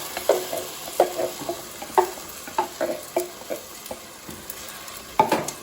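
Sauce being stirred into sautéed onions and celery in a pot, with a regular rhythm of spoon scrapes and clinks against the metal over a soft background sizzle, no talking.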